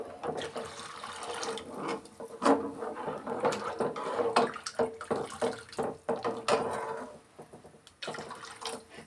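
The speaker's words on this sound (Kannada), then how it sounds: "ನೋಡಿ, ಇನ್ನೂ ಸ್ವಲ್ಪ ನೀರು ಸೇರಿಸ್ಕೊಳ್ಳೋಣ" More water splashes into a pot of coconut rasam, an uneven gushing pour mixed with repeated knocks and clatters of a ladle or vessel, fairly close and continuous.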